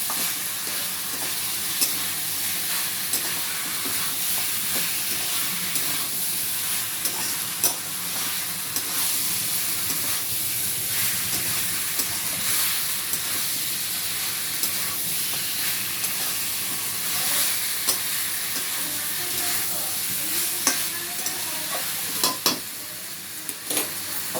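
Fried chicken and potatoes sizzle steadily in a spicy masala, with a close, continuous hiss and crackle, occasional scraping and stirring, and no talking.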